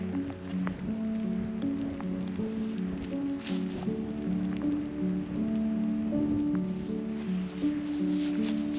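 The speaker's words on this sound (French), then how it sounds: "Mais là, l'ambiance est superbe avec la pluie." Steady light rain patters on leaves and foliage close by, with soft scattered drips over a low continuous background hum.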